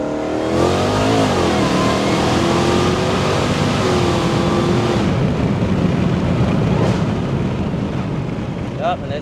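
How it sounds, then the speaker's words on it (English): A Dodge Charger Hellcat with a drag pack launching at full throttle from inside the car, a loud roaring engine rising steadily in pitch through the gears, continuous and close with a brief shift dip. "I'm just gonna put my foot all the way down on the gas."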